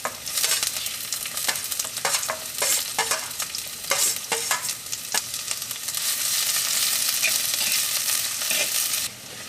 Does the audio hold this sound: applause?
no